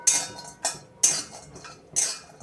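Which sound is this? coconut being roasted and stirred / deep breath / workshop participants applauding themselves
coconut being roasted and stirred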